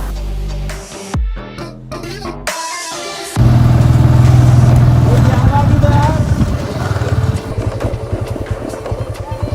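A Bajaj Apache motorcycle engine runs steadily and loudly after a few brief bursts of sound, droning on with a slight rise in pitch as the bike rides along.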